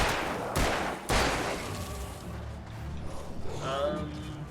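A flare gun fires twice in close succession in the Alan Wake video game, two loud sharp bursts near the start, followed by a quieter stretch of game ambience with faint tonal sounds.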